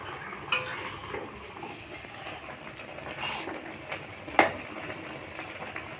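Quiet clinks and scraping from a spoon in a pot as flattened rice is mixed with salt and turmeric, with a few sharper metallic taps over soft background noise.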